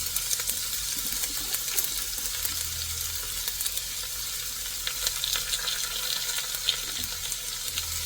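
Washed carrot sizzles in a pan with curry leaves and dried red chillies for a papaya upperi stir-fry, a dense, even frying hiss with faint crackles and occasional soft clinks, no voices.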